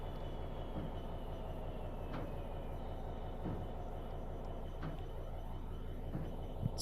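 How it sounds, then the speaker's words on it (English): Diesel locomotive traction motors straining up the steep Lickey Bank incline in a train simulator game, a steady heavy low rumble and drone that stays loud and continuous throughout, with faint intermittent clicks over the top and no talking. "Run those traction motors right into the red."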